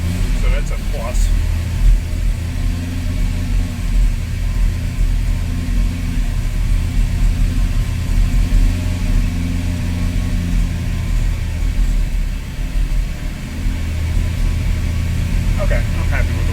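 A 1985 Ford F350 engine idles after carburetor work, running without misfiring. Its low, even rumble holds steady from start to finish.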